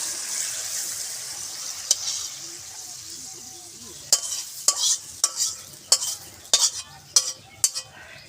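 A spoon stirring mustard paste in a pan, soft background sizzle with a series of sharp scraping knocks against the pan growing more frequent toward the end, close up, no talking.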